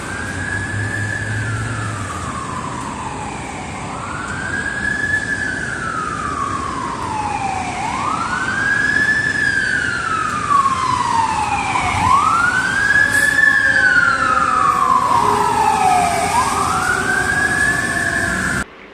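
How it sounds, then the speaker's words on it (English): A Boston fire engine's wailing siren rises and falls in long repeated sweeps, loud and nearby over street and engine rumble, growing stronger toward the end, with no speech. "There was like a Boston fire engine."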